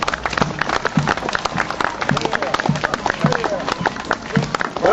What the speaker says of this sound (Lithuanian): Pasveikinkime plojimais.